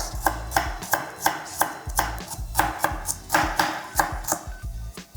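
Garlic chopped with a knife on a cutting board while preparing cucumber chow, with a steady run of sharp, close knocks in an even rhythm and no voices.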